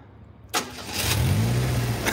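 A truck pulls in with its diesel engine running, a sharp onset followed by a steady low rumble that rises and holds close by, with no talking over it.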